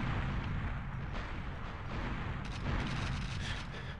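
A timed mine detonates in the GoldenEye video game, giving a deep, rumbling blast that rolls on and swells again before fading, with no voices.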